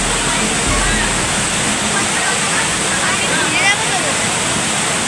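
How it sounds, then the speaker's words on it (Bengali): Strong water rushes and churns over the Panchalingeswar lingas in a loud, unbroken roar close at hand, with a voice faintly heard under it. "কিন্তু ছোঁয়া খুব ডিফিকাল্ট, জলের ফোর্স, প্রচুর ফোর্স, এবং জলের গভীরতাও ভালো"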